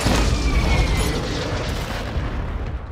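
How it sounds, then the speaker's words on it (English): Mortar strike explosions in Call of Duty: Modern Warfare II, a heavy, close, low booming rumble that stays loud and slowly fades over a few seconds. "Mortar strike inbound now"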